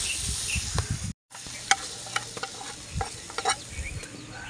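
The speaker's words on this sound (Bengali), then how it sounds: "চিকেনটা কিন্তু খুব ভালো করে ডিপ ফ্রাই করে নিতে হবে।" Chicken deep frying in hot oil, a dense close crackling sizzle with scattered pops and scraping stirs, cut by a brief gap of silence early on.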